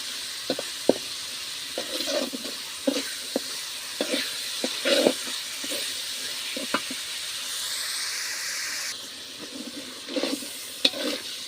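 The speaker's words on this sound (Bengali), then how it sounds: "গরম মশলা গুঁড়ো সব কিছু এখানে দিয়ে ভালোভাবে কষিয়ে নিচ্ছি" Onion, ginger-garlic paste and ground spices including garam masala sautéing in a pan for a rohu fish-head curry: a hushed background sizzle with repeated soft spatula scrapes and knocks at an irregular pace, no voices.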